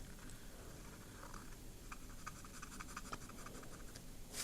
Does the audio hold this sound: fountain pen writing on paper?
yes